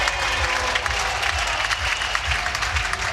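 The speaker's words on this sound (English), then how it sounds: "Swedish fans in questionable headgear cheering loudly" Swedish fans in odd headgear cheer and clap loudly in a packed arena at a Stockholm final, a dense, close roar of applause and crowd noise.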